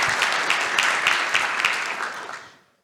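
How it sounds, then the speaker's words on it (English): A room full of people gives a round of applause after a lightning talk, with dense clapping and a few louder individual claps standing out, tapering off over nearly three seconds. "let's give him another round of applause"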